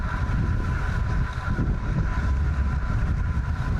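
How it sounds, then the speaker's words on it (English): Strong wind roars and buffets against the microphone during an outdoor bike ride, a loud continuous rumble with no talking. "it's definitely very windy still"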